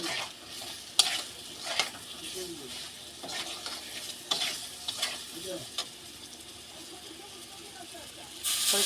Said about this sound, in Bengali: জিরে গুঁড়ো দিয়ে একটু ভেজে নেবো একটু